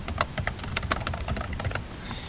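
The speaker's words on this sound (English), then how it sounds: "From here you'll type in your name." Rapid clicking of keys on a computer keyboard as a name is typed in, a short quiet burst of close keystrokes with no talking.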